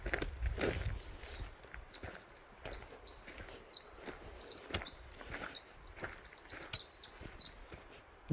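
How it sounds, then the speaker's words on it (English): A bird sings on a forest trail near Harbor, Oregon, giving rapid, high, twittering phrases repeated continuously over a breezy outdoor background. "Listen to that bird."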